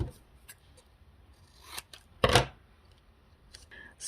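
Scissors snip through paper while trimming a junk journal tag, giving a few quiet, close snips and one louder crisp cut midway, with soft handling rustles around them.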